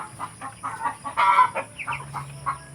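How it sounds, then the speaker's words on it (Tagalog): Several Rhode Island chickens cluck in short bursts close by, with a brief louder squawk in the middle and a low hum underneath. "nagtutukak na sila"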